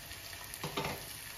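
Chicken fry sizzles in a pan with a constant crackle and hiss that swells briefly in the middle, heard up close with no speech.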